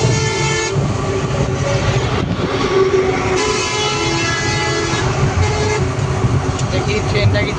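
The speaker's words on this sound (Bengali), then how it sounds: "ওই যে একটা ট্রেন এসে পড়েছে।" A train crosses near the Jamuna Bridge, rumbling loudly and steadily across the whole span, with sustained horn-like tonal notes riding over the rail noise.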